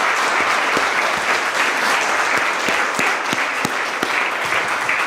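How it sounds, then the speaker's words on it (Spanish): Sustained, loud audience applause fills a church service, a dense steady wash of clapping with occasional sharper individual claps standing out. "denle un aplauso, por favor,"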